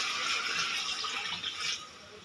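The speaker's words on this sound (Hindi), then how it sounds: "अब इसमें पानी ऐड करेंगे।" Water poured into a pot of half-boiled vegetables for jungli pulao makes a bright, hissing splash that fills the first two seconds up close, then tapers off quickly.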